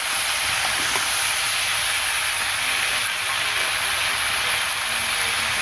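Water poured into a hot pan of cooked-down curry hisses and sizzles in a loud, continuous steamy rush that barely changes throughout.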